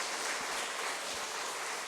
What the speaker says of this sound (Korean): 박수 치시겠습니다